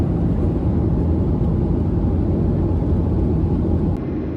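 An airplane in flight on the return from Da Nang, heard from inside the cabin as a loud, constant broadband roar that drops slightly near the end.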